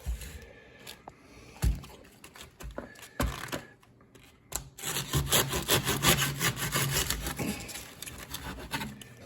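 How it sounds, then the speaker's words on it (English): A knife sawing through the tough leafy top of an artichoke, close rasping cuts, first scattered strokes, then a denser run of back-and-forth sawing crunches in the latter half. "You want to cut about maybe a ½ inch off the top."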